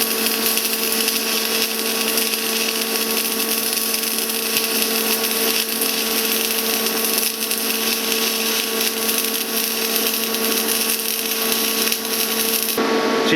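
An R-Tech AC/DC 200 amp inverter TIG welder running in an awkward position, giving a continuous steady electrical buzz and hiss with fixed tonal hum, loud and unbroken, with no talk.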